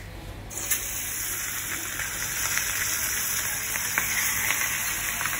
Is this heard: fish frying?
yes